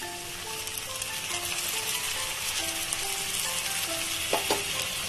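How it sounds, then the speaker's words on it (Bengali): Cumin and ginger paste sizzles steadily in hot oil in a pan for a Bengali vegetarian banana-flower curry, a continuous dense crackle with a couple of sharper spatters near the end, no voices. "এবার এর মধ্যে অ্যাড করে দেব জিরে আদার পেস্ট।"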